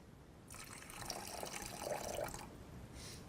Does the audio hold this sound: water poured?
yes